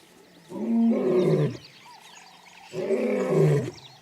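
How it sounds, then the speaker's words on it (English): A male lion gives two deep, bellowing roars in its territory, each lasting about a second, separated by a short pause. The roars are loud and close, with nothing else heard. "He announces his presence with a bellowing roar, which can be heard for up to 5 miles."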